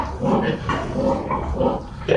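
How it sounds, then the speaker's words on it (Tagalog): A one-month-old pig grunts in a steady series of short, low snorting grunts, close and fairly loud, with no voices. "ito baboy na ito"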